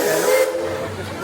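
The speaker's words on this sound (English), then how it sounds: "there is also a steam train in here" Steam train whistle at Knott's Berry Farm theme park, a sustained hissing blast with tonal harmonics for the first half second, then fading into a lower steady tone with steam hiss.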